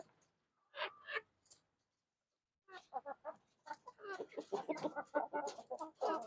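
Chickens cluck and squawk in short bursts while being fed, sparse at first and then busier and overlapping, fairly close with no talking.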